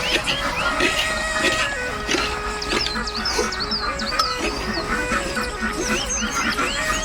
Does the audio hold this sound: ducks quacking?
yes